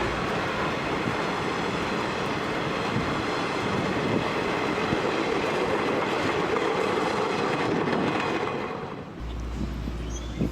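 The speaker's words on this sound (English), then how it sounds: "The train added flat cars with a load of rail bound for Butterfield, Missouri." A freight train of the Western New York and Pennsylvania line rolls steadily past with flat cars carrying a load of rail, a dense continuous rumble and rattle of wheels that eases near the end.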